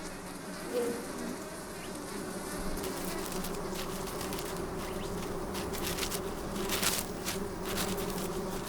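Bees buzz continuously around their turreted nest tunnels in the Sonoran Desert, a soft steady drone with occasional closer fly-bys.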